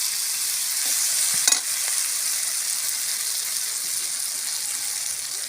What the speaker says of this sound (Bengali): খুব ভালোভাবে আমি ভেজে নিয়েছি।